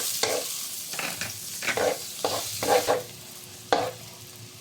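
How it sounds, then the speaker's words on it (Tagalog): Garlic and onion sautéing in a pan for adobong chicken feet, with bursts of crackling sizzle rising and falling as the spatula stirs, close and alone. "Igisa lang natin yung ating mga sangkap"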